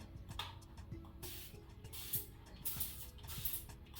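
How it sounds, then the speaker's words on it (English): Short hissing bursts of a spray bottle misting water close by, several quick spritzes amid faint handling noises. "I'm just gonna give it a spray because it doesn't have to be soaking wet, just damp"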